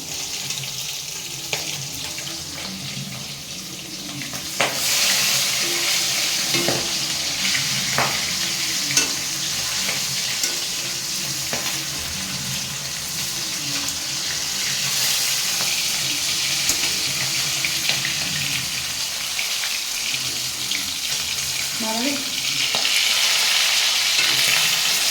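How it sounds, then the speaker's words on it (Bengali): Fish frying in a pan in a home kitchen, with a steady hiss of sizzling oil running throughout, punctuated by occasional clinks and stirring scrapes near the close. "মাছ ভাজা করছি"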